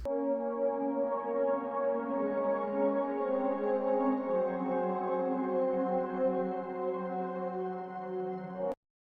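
Soft ambient synth pad layered over a mellow piano loop, sustained chords with bass notes following the roots and brighter flares on top, steady and close with no talking, ending abruptly.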